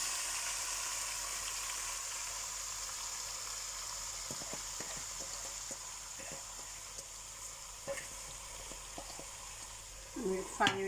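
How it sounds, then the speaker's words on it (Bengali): Pieces of beef with spices fry in hot oil for a beef curry, giving a soft, steady sizzle close by, with occasional light clicks of a utensil toward the end. "আমি তেলের মাঝে গোস্ত এলা দিলাম"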